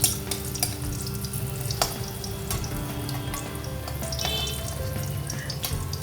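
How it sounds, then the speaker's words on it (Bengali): Potato pieces frying in oil for a Bengali chicken biryani make a continuous close crackle and bubble, with a few sharp clicks and spatters scattered through, no voices. "তারপর আলুর টুকরোগুলো একইভাবে ভেজে তুলে নেব।"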